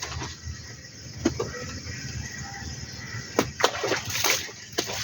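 Soaked clothes are hand-washed in water at home, with wet sloshing under scattered sharp splashes and slaps of fabric, close by and with no talking.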